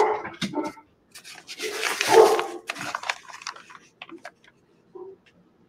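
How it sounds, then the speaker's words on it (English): A dog barks indoors in several short, sharp bursts close by, with scattered clatter and small rustling sounds between them, then quieter whimper-like noises toward the end. "That would be Jack and my son barking."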